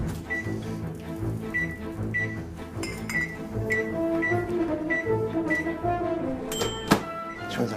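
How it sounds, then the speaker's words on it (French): A microwave oven runs in a busy restaurant kitchen, humming with repeated short beeps and clanks, and a sharp thunk near the end. "Je vais me servir du micro-ondes."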